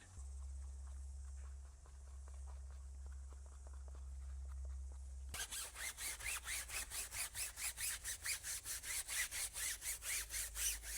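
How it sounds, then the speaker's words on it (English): A wheel cleaning mitt scrubs car tyres in fast, rhythmic back-and-forth rubbing strokes, close and fairly quiet, after a few seconds of low rumbling background. "scrubbing these tyres is the most important step that you can do"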